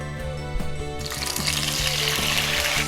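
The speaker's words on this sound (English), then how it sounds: "We're going to put our tomatoes in and sear them just until they're warm and starting to sweat out all their juicy" Tomatoes searing in olive oil in a hot pan give a loud, steady sizzle and crackle that swells after a brief quieter start, with a few stirring clatters and no voices.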